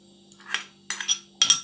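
Fried shallots stirred into pork crackling chili paste, three short bright metallic scrapes and clinks of a spoon against a pan, close and separated by silence.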